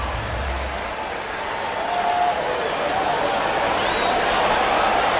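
Rutgers home football crowd cheering after a touchdown, a broad sustained roar of distant stadium noise that swells slightly, with faint whistles and a commentator's voice over it.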